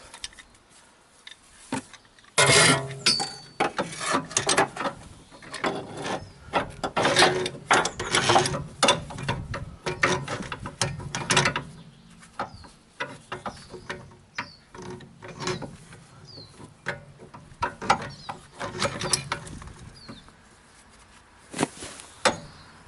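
A spanner ratchets and clicks against metal during rear wheel bearing removal on a Land Rover Freelander 2, close-up bursts of ticking mechanical clatter with pauses between efforts.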